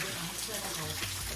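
Steady broadband rush of a small waterfall, a 20 to 25 foot drop in Pickett State Park, filling the clip evenly at close range with a low rumble underneath.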